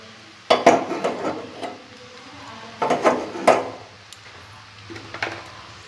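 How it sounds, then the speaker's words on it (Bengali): Fried chicken being tossed into chow mein in a metal pan, with bursts of clattering utensil scrapes and clanks against the pan separated by quieter pauses and a faint sizzle. "ভালো করে চাউমিনটার সাথে এটা মেশাবো।"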